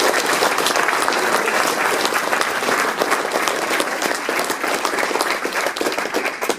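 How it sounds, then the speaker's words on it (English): An audience at a Glasgow Warriors rugby fan event applauds, a dense, steady wash of clapping that holds at full strength for several seconds. "He deserves a round of applause."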